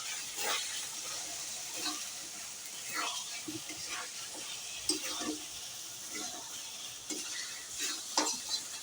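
Meat sizzles and fries in a pan while being stirred, with a steady hiss broken by repeated scraping and clinking strokes of a utensil against the pan, fairly faint and close.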